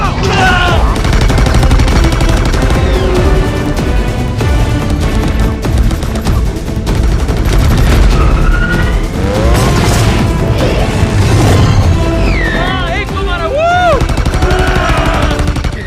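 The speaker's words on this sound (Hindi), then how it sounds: "बंदूक चलाओ।" Loud movie-scene gunfire crackles in dense bursts under a constant wash of music and effects, with shouted voices mixed in throughout.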